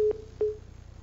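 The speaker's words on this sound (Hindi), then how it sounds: "चलिए फोन डिस्कनेक्ट हो गया" Phone line cutting off during a call, heard as two short, loud electronic tones about a third of a second apart over a low, steady hum.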